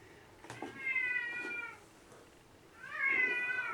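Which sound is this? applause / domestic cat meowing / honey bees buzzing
domestic cat meowing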